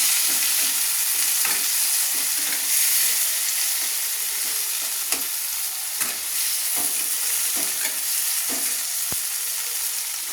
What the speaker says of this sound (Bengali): টমেটোটা একটু নেড়ে দেবো।